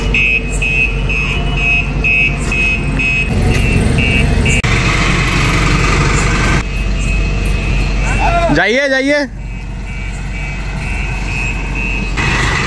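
A bus engine rumbles steadily as the large vehicle is driven and parked, with a brief rising whistle-like tone partway through, while people talk over it throughout.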